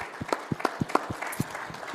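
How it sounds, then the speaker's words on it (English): Scattered audience clapping at a town hall in Chesapeake, Virginia, a thin, uneven patter of separate claps from a small crowd, with no speech. "Give yourselves a round of applause, please."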